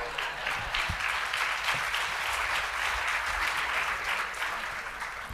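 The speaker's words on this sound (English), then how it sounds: "If I can get one more round of applause, please" Audience applause at a Korean and Cold War annual government briefing, a steady, moderately soft patter of many hands clapping continuously with a few sharper claps in the mix.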